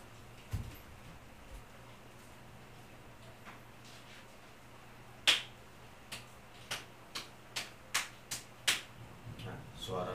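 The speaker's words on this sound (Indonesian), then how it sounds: "Tadi suara tepuk tangan 5 langkah dari mikrofon itu masih kedengaran gitu." Hand claps sound from about five steps away from a Soundtech S-800 microphone, a series of sharp separate claps in an uneven rhythm, moderately loud against a quiet room hum.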